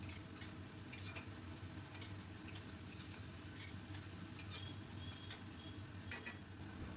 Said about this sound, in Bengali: খুব ভালো করে নাড়ব। যখন এই মশলা থেকে তেলটা ছেড়ে আসবে